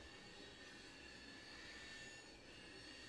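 A passing train gives a continuous broadband rumble and roar with faint high squeal tones, steady and fairly distant throughout, with no voices.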